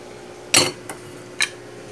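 A cooking pan on a home stove is handled, giving three short metallic clanks and knocks, one strong and two lighter, against a quiet background.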